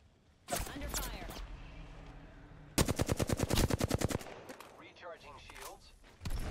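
Weapon fire in the Apex Legends battle royale game: a sharp burst early on, then a loud rapid automatic volley of evenly spaced shots for about a second and a half, with brief bursts later and game voice lines in between.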